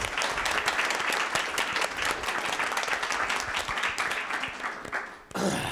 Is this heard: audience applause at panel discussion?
yes